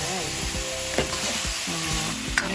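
Boiled pork belly fries in a kawali, giving a continuous loud sizzle with scattered pops and a couple of brief scraping knocks, no talking.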